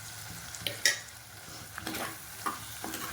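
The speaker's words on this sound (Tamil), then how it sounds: "ஒரு அஞ்சு நிமிஷம் இந்த எண்ணெயிலே இது வதங்கணும்" Chopped ingredients sauté in hot oil for a country chicken rasam, with a steady close sizzle and scraping stir strokes, including a sharp clink near the start and lighter scrapes after.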